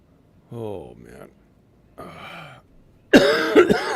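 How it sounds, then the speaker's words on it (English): A voice speaks briefly twice, then a loud burst of coughing breaks out near the end. "My stomach hurts from coughing so much."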